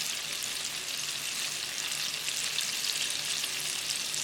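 A second batch of battered chilli fish pieces fries in hot oil, a loud, dense, crackling sizzle that holds steady throughout with no talking.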